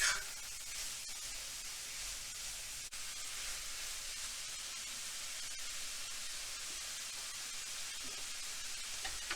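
Sausage and vegetable filling sizzles steadily in a hot pan, a constant bright hiss of frying that runs unbroken at moderate level, with no voices over it.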